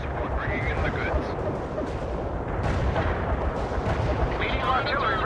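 Artillery barrage in the real-time strategy game World in Conflict during a Soviet assault on Seattle, dense rumbling gunfire and explosions running steadily under the battle din, with radio voices talking over it.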